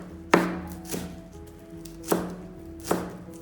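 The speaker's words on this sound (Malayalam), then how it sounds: "നമ്മൾ ഈ കരിവേപ്പില ഇല്ലേ, അത് നമ്മൾ പൊടിയായിട്ട് തന്നെ അരിയാൻ കേട്ടോ." Knife chopping curry leaves finely on a cutting board while making a Kerala-style pork fry, with four separate sharp, close chops spaced unevenly and no talk.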